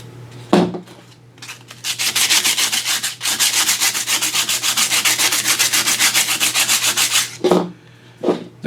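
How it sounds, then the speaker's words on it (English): Concrete filler is sanded by hand with 100-grit sandpaper, a close, steady scratchy rubbing in rapid even strokes for about five seconds, with a few brief separate swipes before and after. "The grit of sandpaper I'm using is 100 grit, but you can use finer if you want."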